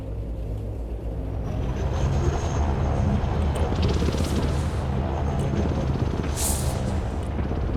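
A cargo plane in the war game Broken Arrow passes overhead with a broad, steady engine roar that swells after the first second and holds loud and rumbling to the end.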